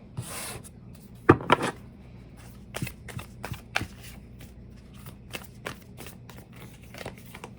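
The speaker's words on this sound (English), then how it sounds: "All right, so let's get some tarot cards." Tarot cards are shuffled close up, with a quick riffle burst followed by a series of soft slaps and rubbing taps as the deck is cut and handled.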